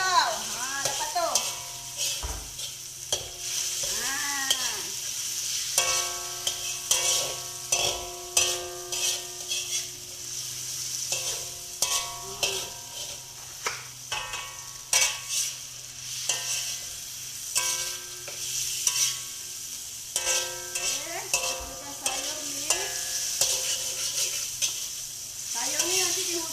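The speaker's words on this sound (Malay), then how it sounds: "Ayam ni kita perlu garingkan dulu tau." Chicken pieces frying in a new wok for Maggi Hailam, a steady sizzle with a spatula scraping and clinking against the pan, with someone talking intermittently over the cooking.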